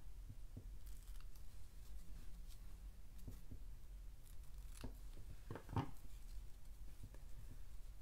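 Scissors cut paper for a handmade Christmas card: a few quiet, scattered snips with a slightly louder clip near the end, heard alone against a low room hum.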